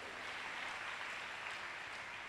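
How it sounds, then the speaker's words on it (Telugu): A church congregation claps together during a sermon by Br. Mathews of Krupa Ministries in Guntur, giving a steady, even wash of applause that holds at a moderate distance for the whole moment, with no voices over it. "కొట్టు చప్పట్లు ఒకసారి."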